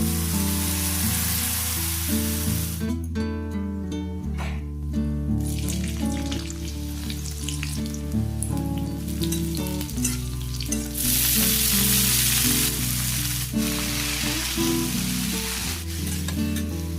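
Saag greens frying in a pan in a home kitchen, a steady, close sizzle and crackle lasting throughout with occasional stirring, under a continuous background tone.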